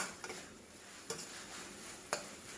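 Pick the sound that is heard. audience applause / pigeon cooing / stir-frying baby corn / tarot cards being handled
stir-frying baby corn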